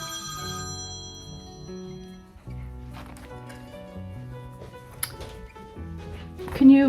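A mobile phone rings with a repeating electronic ringtone pattern, moderately loud, while someone talks over it.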